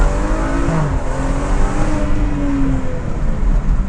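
A BMW 335i F30 revs hard in sport mode, its engine note rising and falling at close range with a steady loud roar and rising pitch sweeps throughout, no talking over it.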